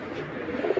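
Big domestic pigeons, larger than racing pigeons, coo in a low, throaty burble at close range, with a few louder pulses near the end and no talking.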